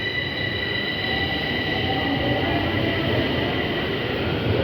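A metro train running in Bucharest, Romania, a loud continuous rumble with a high steady whine over it, no pauses.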